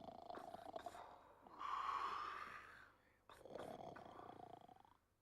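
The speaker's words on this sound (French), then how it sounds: "c'est pas possible de ronfler comme ça" Loud, heavy snoring from a sleeping cartoon character, rasping and wheezy, in long drawn breaths separated by a brief pause, close and alone with no talk.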